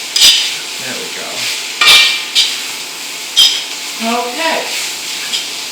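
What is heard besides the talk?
stir-frying pork fried rice in a wok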